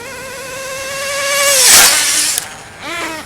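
A nitro RC car engine whines at a high pitch, climbing louder as it speeds toward and buzzes right past the close camera, the pitch dropping sharply as it pulls away before a second brief rev.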